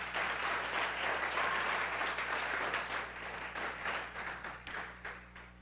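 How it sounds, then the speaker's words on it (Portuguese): A church congregation applauds together, a dense steady wash of many hands clapping throughout, loud and continuous before thinning slightly toward the end. "Se você crê, aplauda Jesus."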